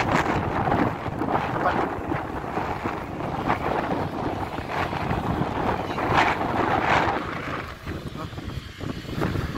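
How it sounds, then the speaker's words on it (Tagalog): Strong wind roars and buffets the microphone in a continuous low rumble, gusting louder at times, with a voice faintly talking underneath. "Grabe yung lakas ng hangin."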